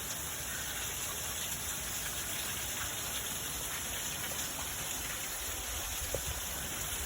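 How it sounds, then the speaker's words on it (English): Heavy rain pours steadily near a huge waterfall setting, a dense continuous hiss of drops striking surfaces without letup, fairly loud throughout with no talk. "we're getting showered with rain"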